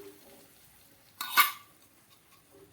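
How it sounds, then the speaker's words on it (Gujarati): A utensil stirs gram flour into a drumstick leaf and flower curry in a pan, giving one short burst of scraping clatter in an otherwise quiet kitchen. "બસ સારી રીતે એને મિક્સ કરી દેવાનું."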